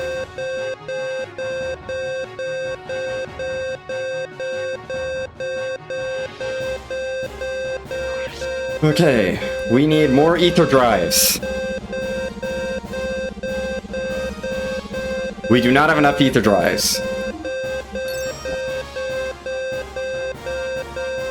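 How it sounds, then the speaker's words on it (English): Electronic beeping repeats at a steady pulse in a room, a constant background pattern that continues beneath a person's voice talking over it. "Sorry about the beeping, it's just the fact of life right now."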